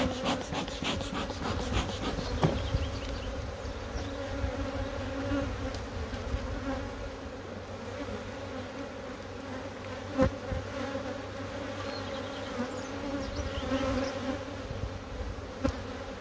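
Honeybees buzz steadily inside a crowded hive packed with honey, a dense continuous drone at close range with small knocks and rustles from handling the frames, no voices.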